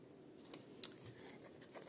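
A few crisp snips of scissors through paper, close and quiet, with soft rustling between cuts.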